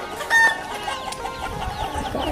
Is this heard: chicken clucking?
yes